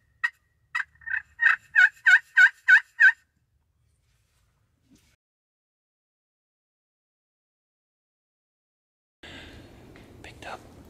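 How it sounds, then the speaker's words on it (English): A wild turkey gobbling in a spring hunt setting, one rapid burst of about nine bright pulses lasting roughly three seconds, clear and moderately distant, followed by long quiet and then low whispered talk near the end. "pretty sure he's heard a gobble"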